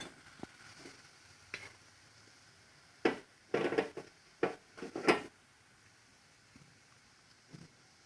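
Washed bottle gourd pieces tipped into masala in a pan give scattered bursts of sizzling and scraping stirs between quiet gaps, fairly faint overall.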